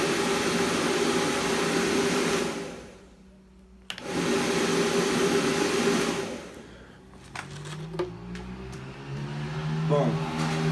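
Air is blown through a Venturi tube prototype in a steady, loud rushing roar that stops twice, then resumes while a voice talks over the quieter stretch.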